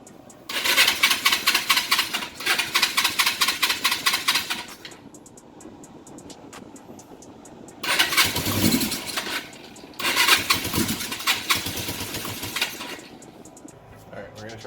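Small engine, primed and with the choke open, being pull-started in repeated attempts: two harsh sputtering bursts, a pause, then two more, with brief talk in the gaps.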